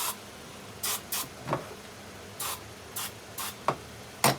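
Starter fluid sprayed from an aerosol can into the carburetors of a Polaris 780 personal watercraft engine: several short, sharp hissing spurts, close and distinct, with brief gaps between them and no talking.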